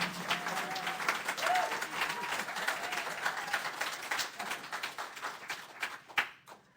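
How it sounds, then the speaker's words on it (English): Church congregation applauding a drummer at a live Hootenanny service, a steady wash of many hands clapping that gradually thins and fades out over several seconds. "Please join me and applaud our Lubbock refugee and drummer"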